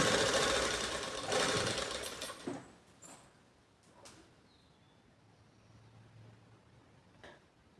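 Sewing machine stitching the back part of a blouse, a dense loud whirring run for about two seconds that winds down to quiet, followed by faint clicks and handling noises.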